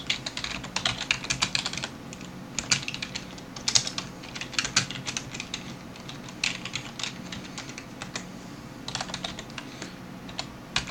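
Rapid clicking keystrokes come from a computer keyboard while JavaScript code is typed, close and fairly quiet, in uneven bursts with short pauses between them.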